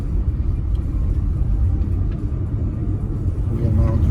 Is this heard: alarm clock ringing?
no